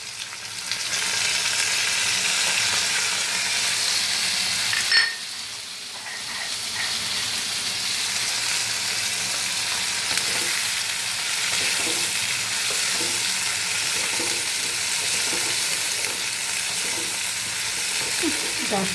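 Green chilli and cumin paste fries in a pan for hilsa fish curry, with a loud, steady sizzle and hiss throughout. A sharp burst near five seconds follows as the paste hits the oil, and faint stirring scrapes come after.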